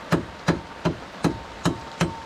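Six evenly spaced hammer blows ring out, each a sharp metallic strike about a third of a second apart, close and clear.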